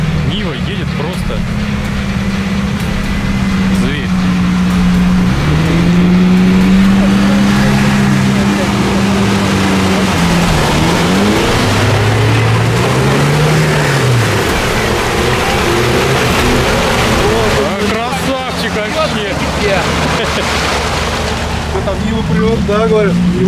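A Lada Niva off-road vehicle drives over rough terrain, its engine droning steadily nearby with the pitch rising and falling as it works through the ground. Broadband rumble and clatter run beneath the engine.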